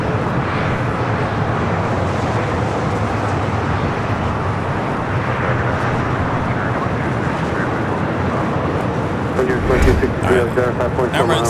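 A large Emirates airliner taxis toward the gate at LAX's Tom Bradley International terminal, its steady broadband engine roar holding level and close, with a brief louder swell near the end.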